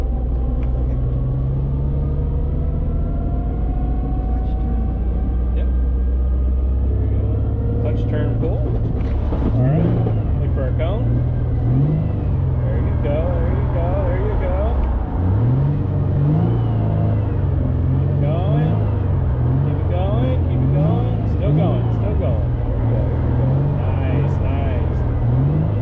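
A car engine rumbles and revs repeatedly in a drift driving lesson at a Texas drift academy, with loud, rising and falling bursts of acceleration. Voices talk over the engine throughout.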